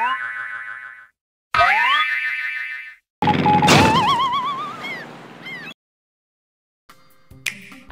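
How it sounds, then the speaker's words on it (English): Crash sound effect from the Wii game Island Flyover: a string of cartoonish electronic boings and warbling, sliding tones in separate bursts with short silences between them, loud and close. "The sound effect that plays when you crash an island flyover is the same sound effect that you hear when you fall"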